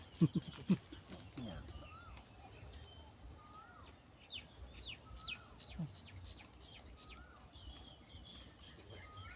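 Chickens cluck and call in a farmyard, with bird chirps scattered over a steady low background and a few louder thumps near the start.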